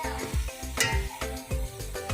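Beef trotters in a pot being mixed with turmeric, salt and spices, giving rhythmic scraping strokes against the pot under a light sizzle.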